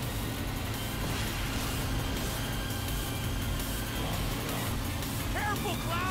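Motorbike engines roar continuously during a chase in Final Fantasy 7 Remake, a steady loud drone with dense mechanical rumble and brief whining tones toward the end.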